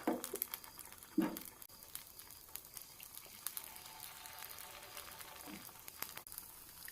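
Kuzhi paniyaram batter made from idli batter sizzles and crackles in hot oil in a pit pan, soft steady frying noise with a few sharper pops early on, fairly quiet and without talk.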